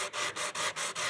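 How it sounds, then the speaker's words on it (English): Rhythmic hand sanding on a car door panel, with steady rasping strokes of abrasive on the surface, about five even back-and-forth passes in quick succession, close and continuous with no talk. "you wanna keep sanding in this curve"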